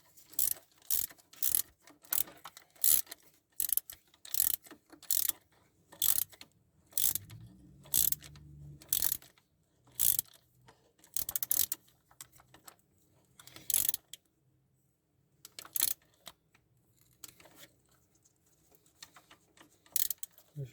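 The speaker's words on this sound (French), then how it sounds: "après je prends ma clé" Ratchet wrench clicking in repeated short bursts while loosening car fuel injectors during a leak repair, crisp close metallic ticks with brief pauses between strokes, no talking.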